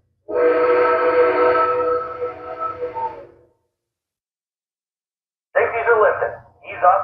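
A steam locomotive gives a long, loud, harmonically rich whistle blast, then falls silent before two shorter blasts follow, sounding close.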